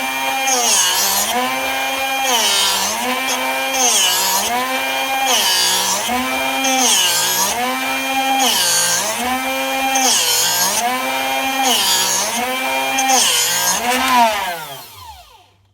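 Drill Doctor sharpener grinding a drill bit, a loud close motor whine that rises and dips in a steady rhythm of about nine cycles as the bit is turned, then spins down at the end.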